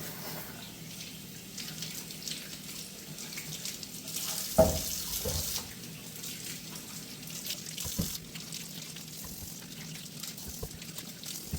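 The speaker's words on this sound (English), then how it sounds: "next is just washing all these apples" Tap water runs steadily into a sink, with occasional splashes and knocks as apples are rinsed under the stream, close and moderately loud.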